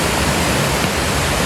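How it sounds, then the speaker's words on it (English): A waterfall in Skipton Castle Woods roars as a loud, steady, unbroken rush of falling water close by. "we're just trying to get this waterfall here"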